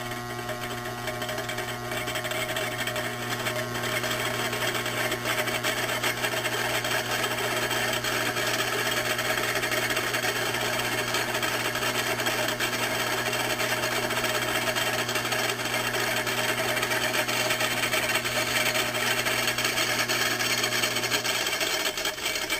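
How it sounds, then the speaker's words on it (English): A homemade electric motor fitted with a second rotor runs steadily, giving a loud continuous whine with a low hum and a buzzing rattle that holds unchanged from start to finish. "So it makes a bit more noise, and it doesn't start up as fast."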